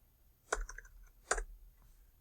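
A few sharp key clicks from typing on a computer keyboard at a Linux terminal, two short bursts about a second apart, close and fairly quiet with near silence between.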